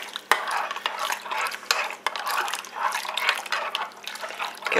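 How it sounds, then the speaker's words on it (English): Water is stirred into a pot roast in a slow cooker, with continuous sloshing and swirling liquid broken by sharp clinks of a utensil against the pot, close up and without speech. "I'm going to stir it up."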